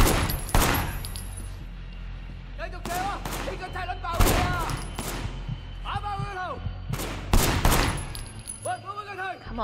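Gunfire in the video game Sleeping Dogs, with repeated loud sharp shots in rapid bursts mixed with game effects through the whole stretch and no voice on top.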